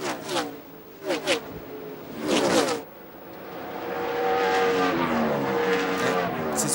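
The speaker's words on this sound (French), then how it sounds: "Reed Sorenson, qu'on n'a pas beaucoup vu, se fait doubler là par le numéro 66 de Scott Wimmer." NASCAR Busch Series race cars roar past one after another at Darlington, several sharp loud pass-bys followed by a sustained rising engine drone, with a commentator talking over it.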